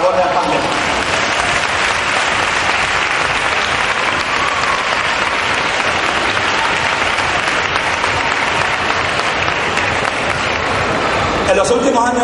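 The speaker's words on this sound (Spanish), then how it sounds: "Un fuerte aplauso también para la labor de Aspandén" A crowd at the 2011 San Pedro Alcántara fair proclamation gives a strong round of applause: dense, steady, loud clapping from many hands that fills the whole stretch without pause.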